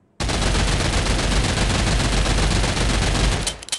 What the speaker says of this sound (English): All right, up next, we have the P90.